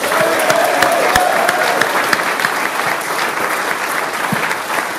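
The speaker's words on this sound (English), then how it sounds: "I'd like a big, big round of applause for former unified world champion Amir Khan." Press conference audience in Liverpool applauding a former unified world champion boxer, loud dense clapping close by with a few sharp individual claps, sustained for several seconds.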